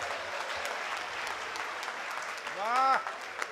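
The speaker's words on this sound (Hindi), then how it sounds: "तालियां एक बार मिलकर बजा दीजिए जोर से।" Audience applause at a live Hindi stage event, a broad wash of clapping that carries steadily across the whole clip, with a brief whistle or tonal sweep rising near the end.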